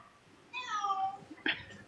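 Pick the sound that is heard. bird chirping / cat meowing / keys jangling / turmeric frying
cat meowing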